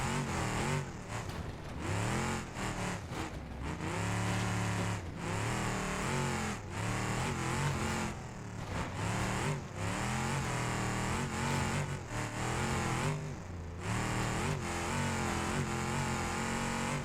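In the BeamNG.Drive simulator, a D Series pickup's engine drones and revs on desert trails, rising and falling in pitch with gear changes and throttle, loud and continuous without talk.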